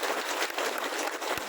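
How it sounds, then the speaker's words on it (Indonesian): An Indonesian religious gathering in Kebumen gives the Banser guards a round of applause, heard as brief, dense clapping from a crowd with no talking. "Saya minta tepuk tangan dulu dong buat bansernya niku luar biasa"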